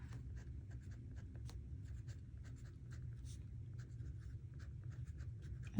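A broad-nib fountain pen laid down with Midnight Blue ink makes soft, close scratchy strokes in short irregular bursts over a faint low hum, with a brief louder knock at the end.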